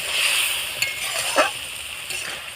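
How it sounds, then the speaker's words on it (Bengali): Warm water hits spice paste frying in a pan, setting off a loud, steady sizzle and bubbling hiss with a few faint utensil clinks, and no voices. "গরম জল দেওয়ার সাথে সাথে একদম ফুটে উঠেছে"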